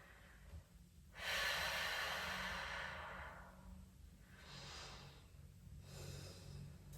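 Slow, deep yoga breaths, with about three long, airy inhales and exhales drawn close to the mic in a quiet room and spaced a few seconds apart, without any talking.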